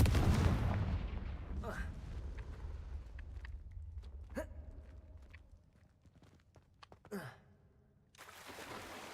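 Confringo fire spells go off in Hogwarts Legacy, a loud opening blast followed by several sharper explosive bursts spaced a couple of seconds apart, each with a short decaying tail.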